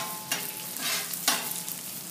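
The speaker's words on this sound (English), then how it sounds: "I've got my bacon frying up there, and we're going to throw our corn in there." Bacon and corn sizzle softly on a hot Blackstone griddle, with a couple of brief scraping stirs breaking through the steady crackle.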